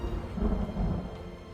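Thunder from a lightning bolt rolls as a deep, continuous rumble, loud and low, with no voices.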